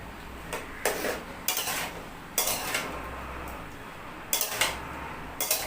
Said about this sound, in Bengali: আদা রসুনটা দিয়ে আমি একটু নাড়াচাড়া করব।